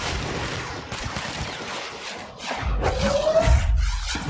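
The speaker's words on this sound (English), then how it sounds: "They're shooting rockets at me." Enemy rockets fired at the player in the video game Control: a steady clatter of gunfire and whooshing launches, ending with a heavier close thump and a rising streak near the end, with no talking.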